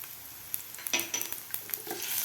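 Ginger, asafoetida, turmeric, curry leaves and green chilli fry in hot oil for a dal, giving a close crackling sizzle dotted with quick spatula clinks and stirs, with no voices.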